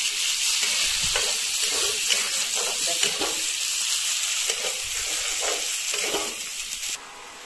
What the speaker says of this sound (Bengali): এখন আমি একটু পেঁয়াজ লাল করব